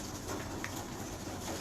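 Pigeons coo softly and continuously in a breeder's loft, a low rolling murmur with a faint background hum and no talking.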